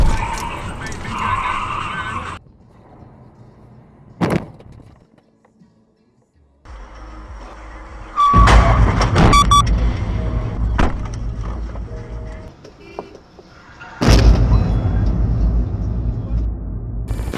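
Car crash sounds from played clips: loud bangs and crunching impacts with skidding and engine noise, broken by quiet gaps, and a voice talking over parts of it.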